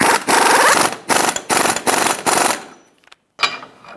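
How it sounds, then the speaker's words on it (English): An impact or air tool rattles in rapid bursts while snugging the axle nut on a 2007-2017 Ford Expedition rear wheel hub, loud and close, with several short hammering runs separated by brief pauses. "Snug the axle nut down."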